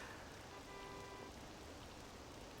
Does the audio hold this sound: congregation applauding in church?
no